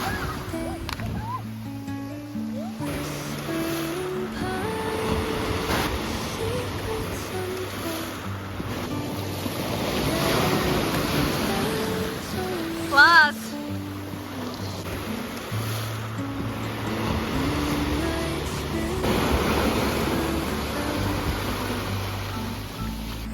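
Waves wash onto the beach at Porto Katsiki on Lefkada, Greece, a continuous surf rush with wind buffeting the microphone, heard beneath steady background music.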